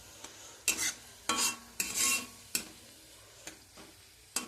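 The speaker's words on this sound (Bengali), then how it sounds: "এই যে লঙ্কা আর পেঁয়াজটা ভেজে নিচ্ছি আমি" Chili and onion frying in a pan, a low sizzle under sharp, repeated stirring clinks of a utensil against the pan at an uneven rhythm, close and fairly quiet with no talking.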